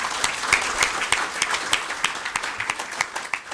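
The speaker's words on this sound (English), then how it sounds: "let's give a warm round of applause, please, for everyone in the room" A conference audience at a business forum applauds, with individual claps distinctly audible in a moderately sized, somewhat sparse round that stays even throughout.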